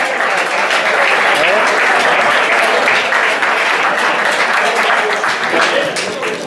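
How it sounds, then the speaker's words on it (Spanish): Loud, sustained crowd applause at a historic vehicle rally on the Costa del Sol, Fuengirola, a dense continuous wash of clapping with no break. "Un aplauso para ellos."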